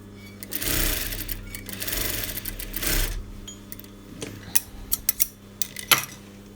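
A sewing machine stitches a seam with piping cord and a bias strip feeding under the presser foot, running in steady bursts for the first few seconds, then easing into a run of sharp, separate clicks and taps toward the end.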